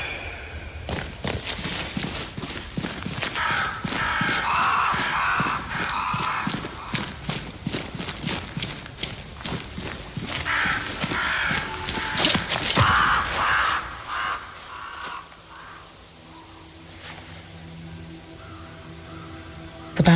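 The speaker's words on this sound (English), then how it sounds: "Crows. They flock to that great tree up there." Crows in the Banishers: Ghosts of New Eden video game caw repeatedly over hoof clip-clop and footsteps, busy through most of the stretch before fading to a quieter ambient tail.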